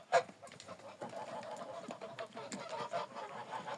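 Geese being herded along, cackling and clucking in short bursts from several birds at a moderate distance, fairly faint with one sharper call near the start.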